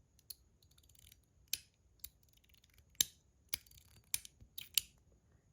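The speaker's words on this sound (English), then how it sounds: "this thing's got like a lot of little small clicks and then one big click at the end" Sharp metallic clicks from a Metal Toys DZ Zircuti Top B fidget toy, a sequence of about nine crisp snaps at uneven intervals with faint ticking between them, close and alone.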